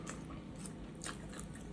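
Close, quiet bites into crunchy croissant French toast topped with peaches and peach syrup, giving a few soft crunching and chewing sounds in a brief stretch with no talk.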